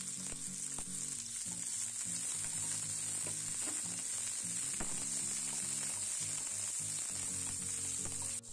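Capsicum and green chili fry in hot oil, giving a steady, loud, dense sizzle with a constant hiss that runs unbroken throughout, with no voices.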